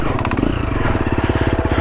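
Triumph TF250E dirt bike ridden slowly through Australian bush with the clutch feathered, a loud close chugging single-cylinder engine pulsing in a steady rapid rhythm.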